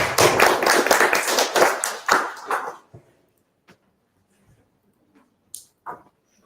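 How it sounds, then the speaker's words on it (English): A short burst of clapping from a small group lasting a couple of seconds, then near silence with a few scattered faint knocks. "Let's give a round of applause to Kiranya Inara"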